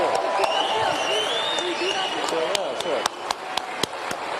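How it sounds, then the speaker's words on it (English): An audience applauds at an AI talk to welcome Elon Musk, clapping and crowd noise spread through the room while voices talk over it, with a few sharper single claps standing out near the end. "I would like a very, very warm round of applause to Elon Musk"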